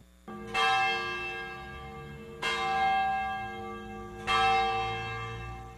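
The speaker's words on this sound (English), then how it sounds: "the bells of St. Boniface Church are ringing" The bell of St. Boniface Church in Northside, Cincinnati, tolls three times at noon at slow, even intervals, each strike ringing out and slowly fading into a long resonant hum.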